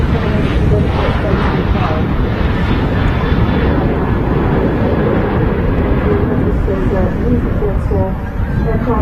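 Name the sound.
Ryanair Boeing 737 starting its takeoff roll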